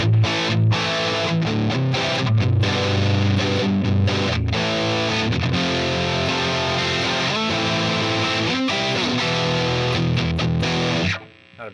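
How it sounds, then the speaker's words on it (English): A distortion plugin in Pro Tools gives a dense, saturated rock guitar tone that plays loud and continuous, sustained chords ringing throughout before cutting off abruptly at the end. "Now we're going to have some distortion."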